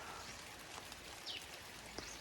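Light rain falls at the Bekar's Bend viewpoint amid mist and green hills. A soft, faint, steady patter of raindrops comes from a distance, with a couple of brief sharper ticks and no talking.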